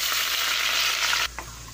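Curry leaves dropped into hot oil with onions and mustard seeds in a pan, a bright, loud sizzle that holds steady and then abruptly cuts off near the end, leaving a quieter hiss.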